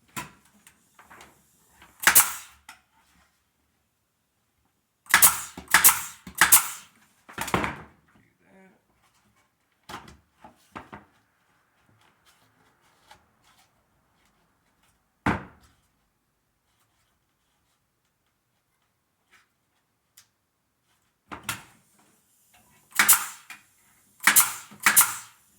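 An 18 gauge nail gun drives 1¼ inch nails into a wooden drawer box, firing in quick bursts of three or four sharp cracks separated by quiet pauses, with a few lighter knocks between.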